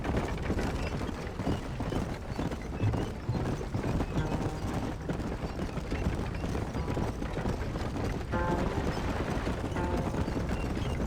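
Gray horse hooves clip-clopping in Red Dead Redemption, a steady rhythmic gallop with faint mechanical tack rattles and clinks over a busy game soundscape.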